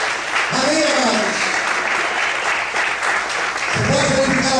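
A church congregation claps together in sustained, dense applause that stays steady and loud throughout, with raised voices joining in at the start and again near the end.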